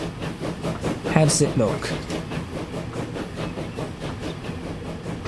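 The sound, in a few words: British train running in Transport Fever 2 video game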